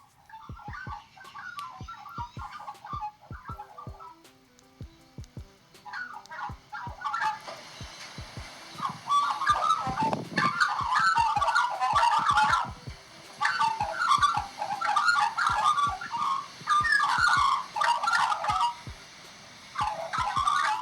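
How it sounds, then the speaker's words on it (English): Magpie calls warble and chatter at close range in overlapping bursts, with sharp clicking ticks scattered throughout and a brief low thump midway. "the sound of a magpie warbling loudly a few meters from under the beautiful sunny sky"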